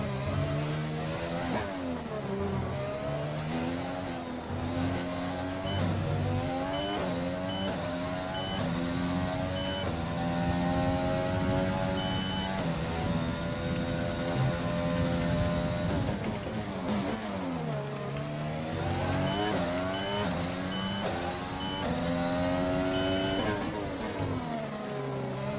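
F1 race cars racing around the Baku GP street circuit in an Xbox racing video game, high-pitched engines screaming and rising and falling through gear shifts and braking, several cars close together and loud for the whole stretch.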